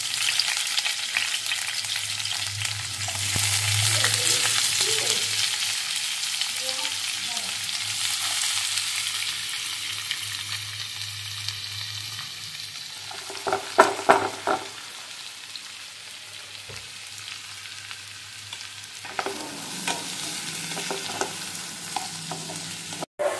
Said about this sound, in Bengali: তেলটা গরম হয়ে গেলে পেঁয়াজটা দিয়ে দেবো, দিয়ে পেঁয়াজটা আগে ফ্রাই করব ভালো করে।